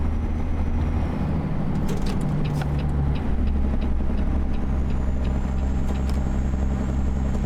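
Steady low engine drone of a Peterbilt 379 truck cruising in 17th gear in American Truck Simulator, continuous and even throughout with a faint whine riding above it and occasional small clicks.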